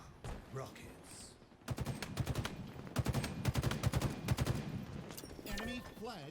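Bursts of weapon fire in Halo Infinite during a capture-the-flag match, rapid repeated blasts in clustered volleys with game noise and a player voice in between.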